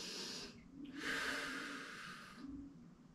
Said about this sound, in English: Lovely breathing.